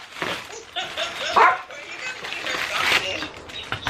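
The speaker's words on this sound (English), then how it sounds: "We can't have you barking on the vlog, Abby." A dog named Abby barks and yips indoors at home, several close sharp barks mixed with whimpery sounds while people talk over it.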